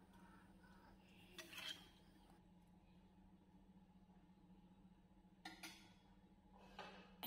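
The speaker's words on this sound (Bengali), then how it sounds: "পানিটা দিয়ে নেড়ে চেড়ে দিচ্ছি।" A spoon scrapes a pot of potato and eggplant curry with dried small fish after water is added, three brief, faint stirring bursts over a low steady kitchen hum.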